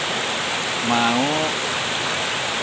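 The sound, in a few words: strong current of the Cimandiri river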